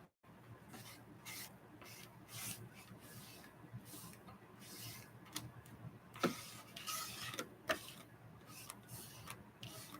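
Repeated rough rubbing and brushing strokes wipe sanding sawdust off a wooden board, close and fairly quiet, in an uneven back-and-forth rhythm.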